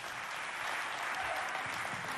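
Audience applause at a neighborhood youth quiz contest, a steady wash of clapping heard faint and distant, continuous for the whole stretch with no voices over it.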